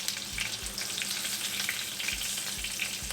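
Okra frying in a kadai gives a steady, dense sizzle that fills the whole stretch, close and even, with a few low knocks from the pan or utensil.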